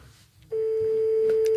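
A single steady telephone tone during a call, starting abruptly after a quiet moment and sustaining evenly, close and clear, with faint background noise.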